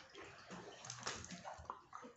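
Water sloshes and laps around someone standing waist-deep in a rocky sea grotto, a faint, hollow, continuous swirl and splash with a little echo.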